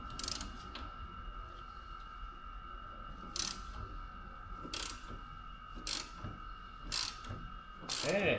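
A ratchet working on a stubborn bolt on a car being readied for inspection, with several crisp ratcheting bursts spaced a second or so apart over a faint steady hum, close and distinct.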